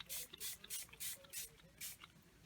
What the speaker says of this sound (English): I'm just going to go ahead and spray this with this Artsy Patina.